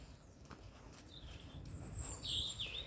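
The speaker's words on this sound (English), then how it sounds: "listen to the bird song, listen" Distant birdsong in a park in Blundellsands, Liverpool, a few thin high chirps and trills rising over soft background noise, growing a little louder toward the end.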